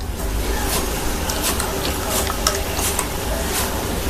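Shrimp frying in a pan for biryani gives a steady, close sizzle with broadband crackle and occasional brief spits, continuous for about four seconds with no talk.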